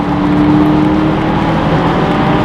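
A BMW 650ci convertible accelerates hard on a highway alongside a semi truck, a loud, steady engine roar and road rush heard from inside the car, with no voices.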